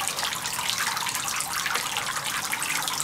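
A young child splashing and playing with water outdoors on a hot day, a continuous close trickling and sloshing wash with no talking.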